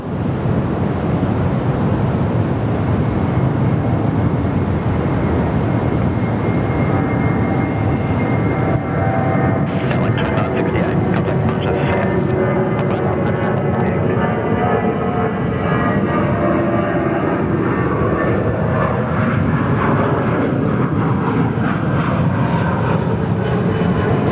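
An Airbus A320 taking off at Perth Airport, its engines a loud continuous roar with rising and falling whine tones across the whole stretch and no talk.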